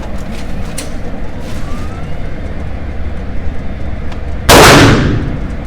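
A CZ Shadow 2 pistol fired at a shooting range: one loud, sharp shot near the end with a quick decaying ring, after several seconds of quiet outdoor background.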